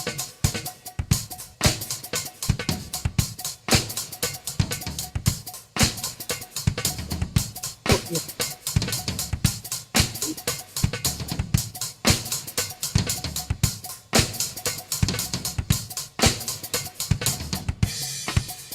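A drum kit plays a steady pattern of four against a nine-eight bar, crisp repeated hits with cymbal wash running unbroken and close, with no voices.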